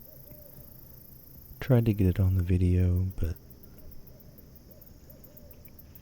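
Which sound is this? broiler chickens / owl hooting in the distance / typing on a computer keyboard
owl hooting in the distance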